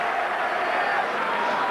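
A large crowd in the theater at Madison Square Garden during the 2003 NBA Draft keeps up a dense, steady roar of cheering and applause throughout.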